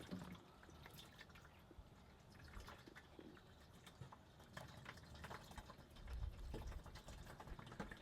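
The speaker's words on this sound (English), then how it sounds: "filling up the tank with fresh water" Fresh water running into a caravan toilet flush tank while refilling it, a steady trickling and dripping fill that carries on throughout, fairly quiet and close, with a brief louder gush near the end.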